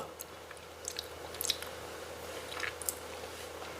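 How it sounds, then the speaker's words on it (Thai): Someone chewing ripe, still-crisp durian close up, with soft wet squishes and a few sharper crunchy bites spread over a few seconds against a quiet background. "ทุเรียนแก่ค่ะ ยังได้ความกรอบอยู่"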